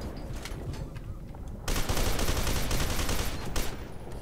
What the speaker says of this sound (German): ich schieße nur gegen Steine hier